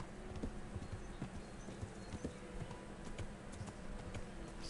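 Horse hooves clip-clop in a steady, quick rhythm in Kingdom Come Deliverance, moderately close and fairly quiet against a low background bed, with no talk over them.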